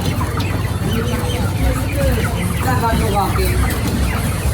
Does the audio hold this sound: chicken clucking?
yes